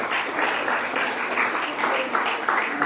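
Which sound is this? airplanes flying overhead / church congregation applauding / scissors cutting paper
church congregation applauding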